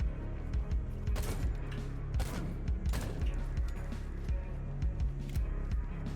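A heavier gun fires in the stealth shooter game Suit for Hire, with several sharp bursts over a dense, continuous layer of game noise and music.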